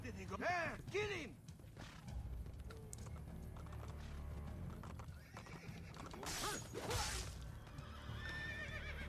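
Horses in Assassin's Creed Brotherhood give two loud, shrill whinnies, one near the start and one near the end, with clip-clopping hooves and dense game battle ambience throughout.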